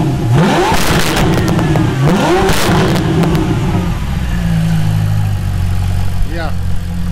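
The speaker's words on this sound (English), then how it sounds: "Ilya, can you rev it a few times?" Ferrari 488 Pista with a Novitec exhaust revved several times in quick succession, sharp rising snarls falling back to a deep rumbling idle, loud and close, with voices talking over parts of it.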